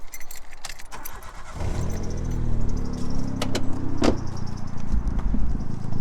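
Keys jangle, then a car engine with an aftermarket Cerakoted exhaust cranks and catches, settling into a deep, rumbling idle that swells with a brief throaty rise; close and loud, no talking.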